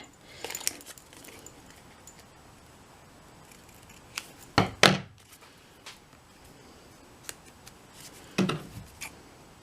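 Scissors cutting straight across decorative trim while making a corner dangle charm bookmark, a few crisp separate snips spaced out over quiet moments, close and clear.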